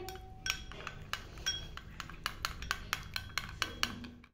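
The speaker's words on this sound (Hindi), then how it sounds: "इसको अच्छे तरीके से मिक्स कर लेंगे" A spoon clinks and scrapes rhythmically against a bowl while orange peel night cream is mixed, a quick run of close, bright taps and rattles with no voices.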